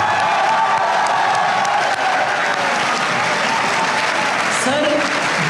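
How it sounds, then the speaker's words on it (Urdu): Audience at a mushaira, a poetry recital, breaking into sustained applause with scattered cheers, a dense, even clapping that fills the room throughout, with some voices mixed in. "اور یار آپ کے لیے بہت سی تالیاں آپ کو"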